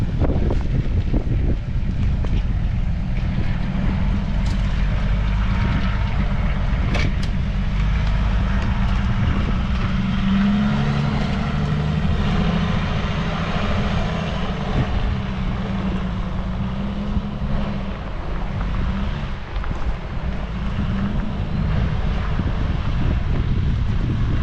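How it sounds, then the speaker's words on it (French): A Duro military truck runs slow test laps around a parking area at a Moroccan campsite after its gearbox was refitted. A steady, loud engine drone continues throughout, mixed with heavy wind buffeting on the microphone and no speech. "le Duro roule, olé. On fait des petits tours de parking en test pour le moment."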